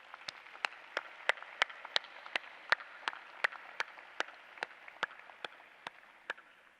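Sparse, evenly spaced hand claps ring out at a graduation ceremony for a law school class, sounding like only one or a few people clapping steadily over quiet room tone.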